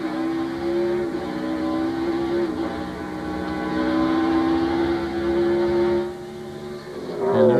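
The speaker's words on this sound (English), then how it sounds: "He's passed all those cars that he'd lost to, plus passing Dale Jarrett and Dale Earnhardt" NASCAR stock cars in the 2000 SaveMart/Kragen 350 road race roar past on track, a loud sustained engine drone whose pitch shifts as cars pass, easing briefly before surging again near the end.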